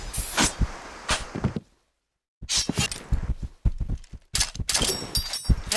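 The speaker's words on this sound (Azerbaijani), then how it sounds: "Bir güllə atdılar." Gunfire in a competitive shooter video game: sharp, loud bursts of shots crackle in quick clusters, broken by a brief moment of complete silence before the firing resumes.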